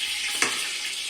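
Onion and garlic frying in a pan, a steady close hiss with a couple of short stirring scrapes.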